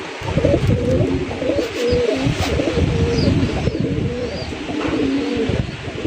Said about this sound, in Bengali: রাজশাহী গিরিবাজ কবুতরের কালেকশন